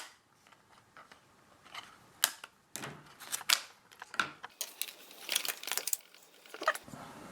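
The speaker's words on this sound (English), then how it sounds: "cut off the tie wraps." Scissors snip through plastic cable tie wraps holding a drop bar mirror on a road bike: a quick run of sharp, irregular clicks and snaps, close and fairly loud, with no talking.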